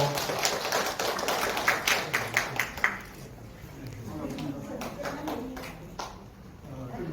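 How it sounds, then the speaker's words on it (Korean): Audience applause welcoming a professor to a lecture at a seniors' welfare center, a dense burst of clapping with sharp individual claps that fades after about three seconds into quieter room noise and murmurs. "박수로 환영해 주십시오"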